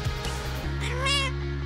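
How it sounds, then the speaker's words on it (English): A cartoon cat gives one clear, rising meow, close and loud, over a steady low electronic hum. "Hey, a little cat."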